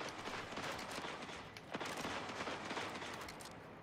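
Dense, continuous exchange of gunfire in a Destiny 2 multiplayer fight, overlapping shots forming a steady loud barrage for the whole span with a few sharper bursts.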